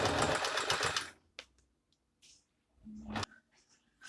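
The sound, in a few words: Singer M3305 sewing machine doing a straight stitch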